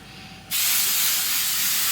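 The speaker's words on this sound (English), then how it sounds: "Now we use the hairspray." Tresemme Extra Hold hairspray bursts from an aerosol can, a sudden loud, steady hiss that starts about a quarter of the way in and continues to the end, heard alone after a quiet background.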